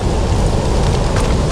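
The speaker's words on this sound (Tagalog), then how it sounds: "Umuulan na po." Steady rain falls hard and close by during fishing beside water, a dense, continuous hiss of drops with no break and no voices.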